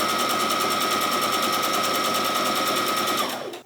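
A sewing machine stay stitches curved edges of quilted vest pieces, running steadily and loudly at close range for over three seconds before stopping abruptly.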